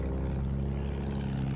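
A propeller plane drones overhead in a tank combat video game, a steady, moderately faint engine hum with even harmonics and no talk.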